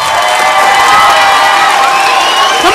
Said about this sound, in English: Let's give the kids one more round of applause.